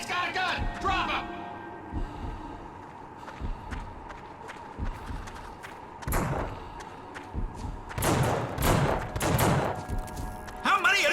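Gunfire breaks out in The Suffering, a horror shooter game, with sharp bursts of shots and heavy thuds clustering near the end amid footsteps and scuffling, while game voices talk over the action.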